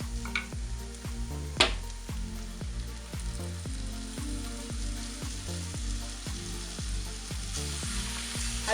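Masala paste of ground green spices frying in oil with browned onion for a beef masala, a soft steady sizzle under regular rhythmic stirring strokes of a spoon against the pan, fairly quiet and with no talking.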